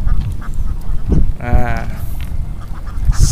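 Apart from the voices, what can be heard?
ducks quacking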